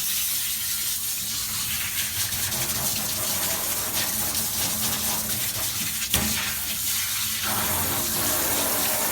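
Steady running water pours loudly and continuously while soap is rinsed off a dog during a bath, a broad rushing wash with one brief knock partway through and no voices.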